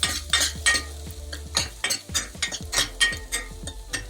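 Onions sizzle in a hot pan while a utensil repeatedly stirs and scrapes against the metal in quick, uneven strokes, close up.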